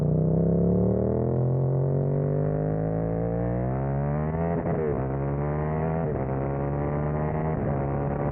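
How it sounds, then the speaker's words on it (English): A loud, sustained street-legal race motorcycle engine drone with rising pitch as it revs steadily, the harmonic whine climbing and wavering with throttle blips near the end. "I have it because it's a street-legal race bike that sounds wicked."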